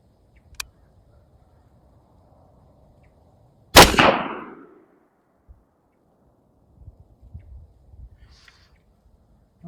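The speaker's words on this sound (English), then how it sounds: "Let's see if we can get some rounds down range here." A single loud 6.5 Grendel rifle shot fired down range at an outdoor range, a sharp crack with a short decaying boom, followed by faint scattered handling noises.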